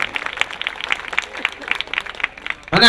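Brief burst of audience clapping at an Odia stand-up comedy show, a scattered patter of hands at moderate volume that fades before a voice cuts in at the end.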